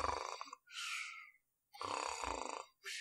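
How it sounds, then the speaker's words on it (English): A person makes loud, throaty snoring sounds with their voice, three drawn-out rasping snores separated by short silences. "He snores very loudly."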